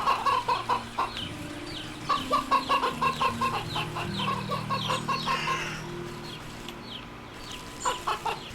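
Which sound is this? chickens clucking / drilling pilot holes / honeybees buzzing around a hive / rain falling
chickens clucking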